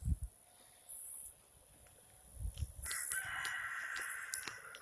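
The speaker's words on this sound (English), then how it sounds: "Apologize for the rooster." A rooster crows in an urban neighbour's yard at moderate distance, its call rising clearly partway through and carrying on over faint background noise, with a brief low thump at the start.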